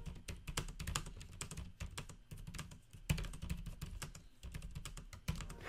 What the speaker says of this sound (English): There is a small amount of flex in the keyboard towards the centre, and it does sound a little clattery.